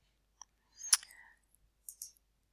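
A couple of faint, crisp mouse clicks in a quiet room while working in document-editing software, short sharp ticks separated by brief pauses with near silence around them.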